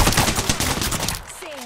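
Rapid bursts of gunfire from the Apex Legends video game crackle loudly in quick succession for just over a second, then give way to a rising electronic tone.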